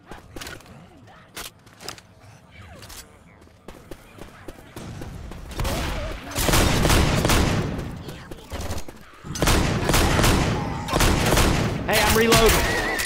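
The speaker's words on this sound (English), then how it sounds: "Spin him around and shoot him in the back. Shotgun." Shotgun blasts and other gunfire in a Left 4 Dead 2 infected city battle, starting with sparse sharp shots and footsteps, then breaking into loud, dense bursts of overlapping fire with voices mixed in.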